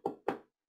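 Two firm knocks on a door in quick succession, close and clear, with silence after and no voices.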